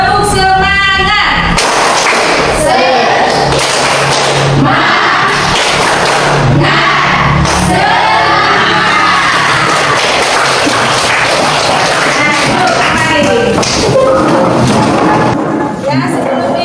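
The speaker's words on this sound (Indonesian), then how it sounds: "Kita tepuk semangat ya, biar belajarnya semangat." A classroom of students does a loud rhythmic spirit clap, with sharp claps and thumps in a chanted pattern and many voices shouting along throughout.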